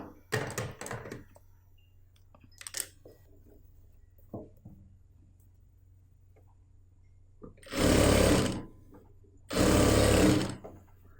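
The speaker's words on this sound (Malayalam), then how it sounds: "ഇവിടെ മുതൽ സ്റ്റിച്ചിങ് സ്റ്റാർട്ട് ചെയ്യാം" A domestic sewing machine stitching a straight half-inch seam along a churidar bottom, in two loud sustained whirring runs near the end, after a few brief handling clicks and scrapes in an otherwise quiet room.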